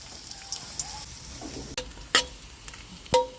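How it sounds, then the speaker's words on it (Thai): Shallots fry in hot oil with a quiet, soft sizzle broken by a few sharp crackles and spatters, close by and without voices. "น้ำมันร้อนแล้วเดี๋ยวเจียวหอมนิดนึงเอาหอมลง"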